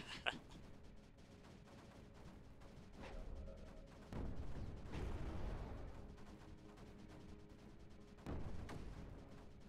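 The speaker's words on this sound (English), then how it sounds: "The explosions are sort of spooky because you don't know if it's just the guard or if it's the unit." In the video game Creeper World 4, several muffled booms of explosions and gunfire-like blasts go off faintly and irregularly against a rumbling background.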